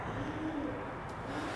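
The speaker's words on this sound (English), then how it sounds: "I think the doves are back." Doves cooing outdoors near a horse herd, a soft low cooing note rising briefly over a steady ambient background noise.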